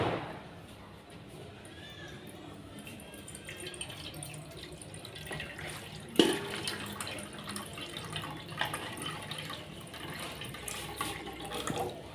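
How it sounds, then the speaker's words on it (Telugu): Water is poured into a pan on a stove while making palak paneer, a quiet, low trickle of liquid with a few small knocks and clinks from the pan across the clip. "దాంట్లో వాటర్ పోసుకుందాం."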